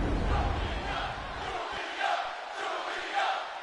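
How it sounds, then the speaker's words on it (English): Wrestling arena crowd in the video game WWE 2K25 during a one-on-one match, a steady loud roar of cheering and chanting that swells in waves, with no clear speech over it. "And the crowd behind Julia."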